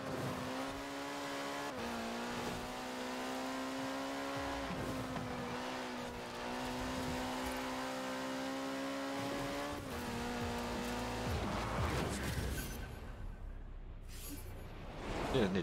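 A race car in Forza Horizon 4 holds a steady high engine whine with shifting pitch, tires hissing underneath as it drives on without pause, near and continuous.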